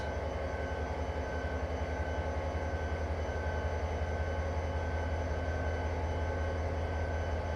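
A freight train braking in Train Simulator 2020 on the Soldier Summit route, a steady low rumble with sustained tonal hum and drone that stays constant and even throughout, no talking.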